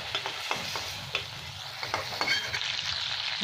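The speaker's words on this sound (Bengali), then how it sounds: "চিংড়ি মাছটা আমার ভাজা হয়ে গেছে, এবার আমি উঠিয়ে নিচ্ছি তেলের থেকে।" Prawns frying in hot oil in a pan for a Bengali prawn and taro curry, a steady close sizzle broken by scattered pops and the soft scrapes of a spatula, with no talk.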